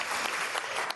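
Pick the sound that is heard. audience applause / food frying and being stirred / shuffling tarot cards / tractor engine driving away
audience applause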